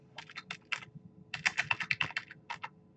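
Typing on a computer keyboard: a short burst of several key clicks, a brief pause, then a quicker flurry of keystrokes, close and clear with no talking.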